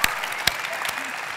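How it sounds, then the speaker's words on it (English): An audience gives a short burst of applause at a lifetime achievement event, with scattered claps and brief sharper hand slaps heard over a faint voice. "Yeah, that deserves applause."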